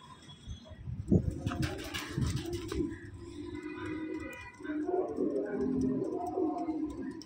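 Pigeons coo softly in a loft, low murmuring calls repeating close by amid faint fluttering and patter.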